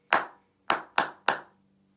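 Four crisp, close hand claps in a music class pattern of one long beat, two quick beats, then a final beat, each sharp and isolated in a quiet room.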